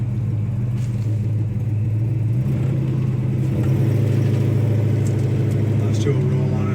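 A 1970 Chevrolet Chevelle SS accelerates through the gears, its loud, deep engine rumble rising and shifting pitch from inside the car while people talk over it.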